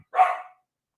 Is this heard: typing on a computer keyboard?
no